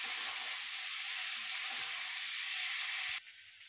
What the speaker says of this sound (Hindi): अब इसको पकाएंगे पूरा, सारा सब्जी को अच्छा से भून लेंगे।